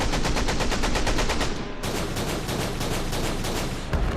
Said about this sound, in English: U-154 begins to fire.